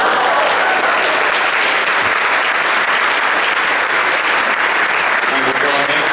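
An audience at a faculty talent show applauds a prize winner with loud, dense, continuous clapping that fills the whole six seconds.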